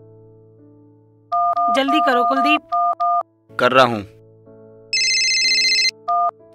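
Phone keypad beeps in short bursts, followed by an electronic ring tone repeating loudly, with hurried voices speaking in between the tones.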